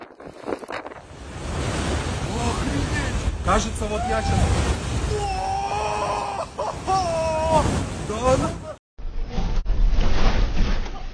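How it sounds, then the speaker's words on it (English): Strong wind whipping seafoam into swirling waves around homes, a loud continuous roar of gusting wind and surf with a voice speaking over it and a brief cutout near the end. "Powerful winds transformed seafoam into swirling waves that surrounded homes in the United States"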